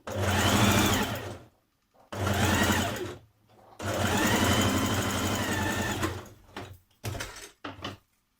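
A sewing machine stitches the side seams of a bodice for a tunic or dress in several bursts, each a fast whirring hum that stops and restarts, close and clear.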